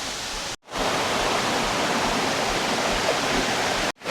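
A tall waterfall in Araku Valley roars with a steady, broad rushing wash of falling water, loud and unbroken apart from two brief cuts to silence.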